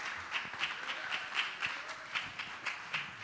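Church audience applauding and cheering a visiting pastor at a Sunday morning service, a steady distant wash of clapping with scattered sharper claps, no voices over it.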